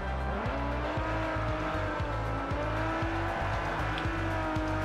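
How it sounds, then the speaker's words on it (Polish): A Ferrari 458 Spider in the Forza Horizon racing game brakes hard, its tires squealing in a sustained rising screech over a steady, loud engine drone. No one speaks. "Hamujemy!"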